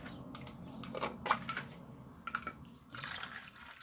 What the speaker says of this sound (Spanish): Vamos a poner agua fría y vamos a ver qué es lo que conseguimos con el agua del grifo